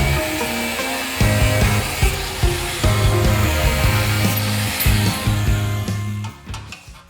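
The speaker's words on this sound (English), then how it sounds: "I'm just gonna take the grinder, cut that to the length I need it" An angle grinder cuts a metal bung to length for a Triumph Bobber fender, a loud, close, sustained whining grind with shifting pitch that eases off near the end.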